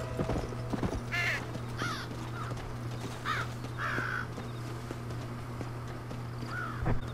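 A bright pink horse in Red Dead Redemption clip-clops off-road over rough ground in a steady, soft rhythm, with crows cawing several times overhead and a low constant hum beneath.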